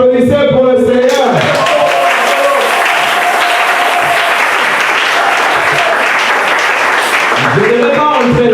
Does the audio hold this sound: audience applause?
yes